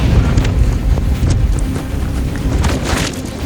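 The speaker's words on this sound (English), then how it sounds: "Oh, it's getting windy," Strong storm wind roars and buffets around a storm-chasing van, a loud continuous rush with gusty surges and microphone buffeting, no voices.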